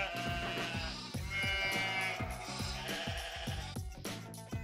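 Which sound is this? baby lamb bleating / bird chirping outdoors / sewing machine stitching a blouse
baby lamb bleating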